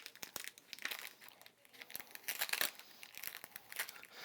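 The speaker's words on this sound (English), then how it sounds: "bear with me while I rip these" Sellotaped pieces of quilt fabric being ripped out by hand, faint crinkling tape and fabric tearing in short irregular bursts, close but quiet.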